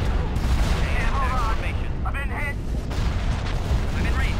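Continuous dense weapons fire and rumbling booms from a Star Wars space battle in the AOTR 2.8.2 strategy game mod, steady and loud throughout, with a voice talking over it.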